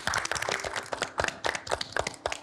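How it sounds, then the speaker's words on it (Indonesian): Scattered hand claps from a small audience at an Indonesian health talk show, uneven and sparse, with irregular individual claps over a low background murmur rather than a full ovation. "Sekali lagi kita beri tepuk tangan."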